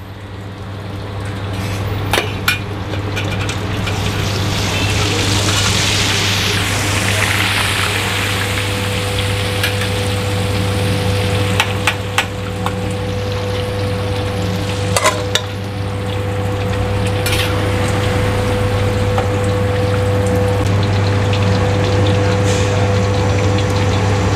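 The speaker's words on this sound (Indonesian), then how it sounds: "Chicken karagenya kita goreng lagi." Karaage chicken in its second fry in hot oil gives a loud, steady sizzle and bubbling up close, with a constant low hum and occasional clinks, and no talk.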